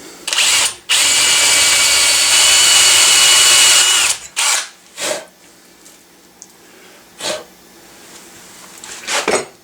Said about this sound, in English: And then I re-drill it to the final size for threading, and this is with a number 4 bit again.